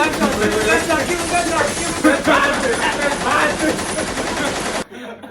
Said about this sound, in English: give him gunshots